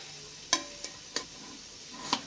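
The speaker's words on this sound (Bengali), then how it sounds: "তাই আবার এখানে আলাদা করে আমি লবণটা মিশিয়ে নিচ্ছি" Salt is stirred into a mustard and poppy seed paste: four quiet, separate spoon clicks and scrapes against the bowl over a faint background.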